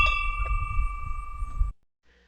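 A bright, sustained ding rings out as a notification bell, holding a clean steady tone over a low thumping rumble before cutting off abruptly, followed by a faint short echo.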